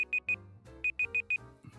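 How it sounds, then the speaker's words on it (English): A high-pitched electronic beep repeats in short, evenly spaced pulses, three and then four in quick succession, sounding clearly over faint background music. "damn, that beep is distracting."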